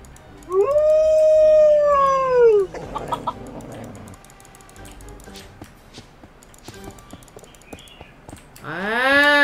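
Wolf in the Mini World video game letting out a long, loud, wavering howl, then a rougher burst of animal noise and scattered clucks and clicks, before a second howl rises at the end.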